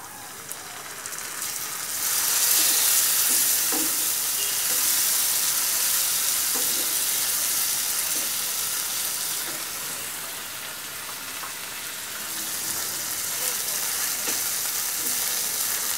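Ginger-garlic paste hits fried onions in hot oil for a fish-roe bhuna, giving a loud, steady sizzle that swells and eases in waves, with faint stirring clinks underneath.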